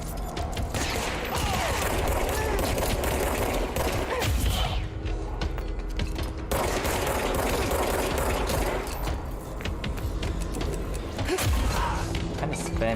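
Dense, sustained gunfire from a machine gun and a pistol in the video game Control, with rapid bursts running almost without a break and loud throughout, briefly easing near the middle before resuming.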